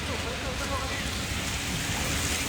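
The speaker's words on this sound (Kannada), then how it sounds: "ಮಳೆ ಬರ್ತಿದೆ" Steady rain falls in Coorg, a broad, even hiss of drops that stays loud and unbroken throughout with no distinct individual patters.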